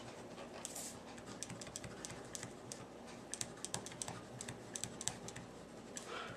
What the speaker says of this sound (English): I'm going to go ahead and write, this is a review